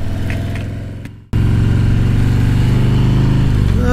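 Harley-Davidson Road King motorcycle engine idling, then after a brief cut a steady loud rumbling drone as it rides off, close and alone.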